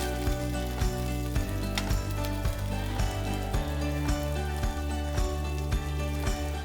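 Chorizo and sweet corn fritters fry in a pan with a steady, close sizzle and crackle that carries on throughout, broken by a regular series of soft knocks.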